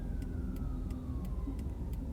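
A Norwich Fire Department truck siren wails in the distance on Main Street in Norwich, Connecticut, a rising-falling tone over steady traffic rumble and passing cars.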